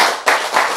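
A lecture audience claps in a short, dense burst of hand claps that surges twice, loud and close, with no talking.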